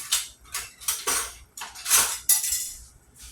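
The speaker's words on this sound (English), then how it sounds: "First thing I'm going to do is chop up this cabbage." A knife cuts through a home-grown garden cabbage in a home kitchen, about eight crisp, crunchy strokes in an uneven rhythm, close and fairly loud, with no talking.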